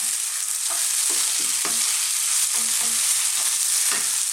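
Beef and beans stir-frying with red chilli, a loud, steady hiss of hot oil close up, punctuated by a series of rhythmic scraping and tossing strokes from the spatula.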